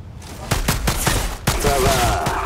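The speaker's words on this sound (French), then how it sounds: "Tu peux essayer ton arme de poing maintenant" A handgun fired repeatedly in Outriders, sharp close shots cracking in quick succession, about a dozen in two and a half seconds, with a brief pause midway and faint background tones.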